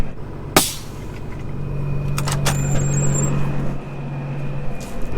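A farm truck with its air suspension dropped pulls away from a trailer outdoors during harvest preparation, with a sharp air-brake hiss burst at the start, then a steady engine hum and a second brief hiss as it moves off.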